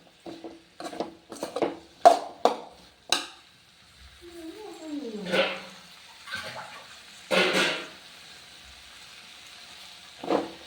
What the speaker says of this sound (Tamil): நம்ம இப்போ அதுக்கு தேவையான தண்ணி ஊற்றிக்கலாம்